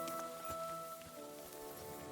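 Rain falling in Monster Hunter Wilds: a soft, steady patter of drops on surfaces, faint and continuous beneath sustained game music tones.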